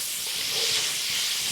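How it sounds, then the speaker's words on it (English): Steady sizzling hiss of onions and garlic sautéing in a carbon steel frying pan, close and continuous with no talking. "we just need to saute these until they are soft but not necessarily done"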